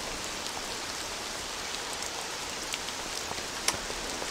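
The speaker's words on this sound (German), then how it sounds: "es regnet draußen, wie man sieht" Steady rain falls outside in the video game Mafia, a dense, even hiss of drops hitting surfaces with one brief sharper tap near the end, heard alone without voices.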